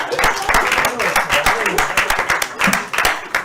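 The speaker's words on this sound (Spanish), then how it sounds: "un aplauso para ellos" Audience at a clinical-case competition in cardio-onco-hematology claps for a prize-winning team, with sharp, rapid hand claps throughout and a host's voice talking over the applause.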